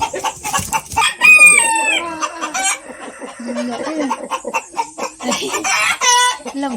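Several white Chinese chickens on a poultry farm cluck and squawk nearby in an irregular chorus, with a drawn-out crow-like call rising among them.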